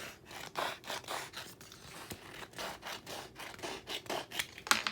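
Scissors cutting a sheet of vinyl for decorating a water bottle, a quiet close series of about a dozen rhythmic snipping strokes with a sharp click near the end.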